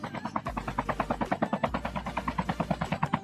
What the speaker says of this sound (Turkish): Bak helikopterle seni almaya geldim.